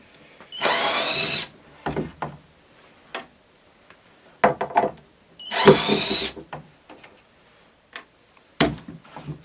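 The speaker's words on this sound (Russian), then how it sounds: "Сейчас тут сразу же выкручу саморезы." A power drill backs out self-tapping screws in short, loud whirring bursts, two longer runs among several brief spurts, with quiet gaps between them.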